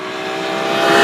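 A BMW E46 M3's 3.2-liter straight-six engine revs hard and loud, pitch climbing smoothly over a second with no voices.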